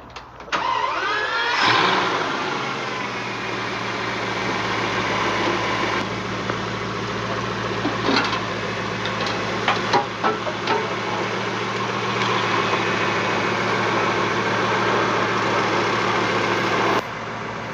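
Bugatti W16 engine of about 1,000 horsepower fires up and settles into a loud, steady idle close by, holding a deep continuous rumble with small clicks and shifts throughout.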